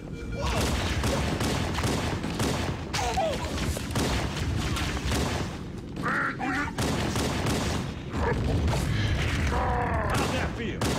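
Dense, continuous gunfire and explosions from the Halo: Combat Evolved shooter fill the whole stretch, loud and busy, with a player talking over the battle.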